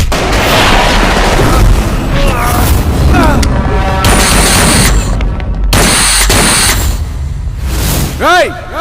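Gunfire from a movie fight scene, loud repeated booming shots and bursts mixed with dramatic music and effects, with voices shouting over the action.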